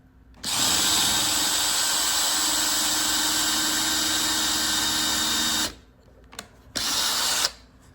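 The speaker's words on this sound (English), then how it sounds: "I'm going to drill a pilot hole into my wooden spindle so that I can insert a screw to hold it" A power drill bores a pilot hole into a wooden chair spindle, running loud and steady for about five seconds, then stopping, giving a short blip and a brief second burst.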